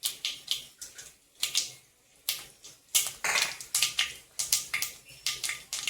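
Cumin seeds hit hot oil with mustard seeds in a tempering for upma, giving a run of sharp crackles and pops in irregular bursts, heard close and fairly quiet.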